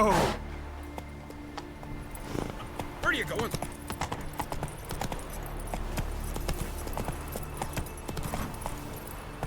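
Horse hooves clip-clop at a steady gallop through a game world in The Witcher 3, mixed with ambient game sound, a brief whinny-like cry at the start and a voice speaking over it.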